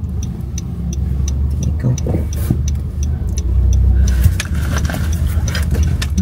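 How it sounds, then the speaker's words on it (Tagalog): Steady low engine rumble and road hum from inside a car on the move, with a faint rhythmic ticking like a turn signal, and a brief word spoken near the start. "Ngayon na naman tayo makapag-drive."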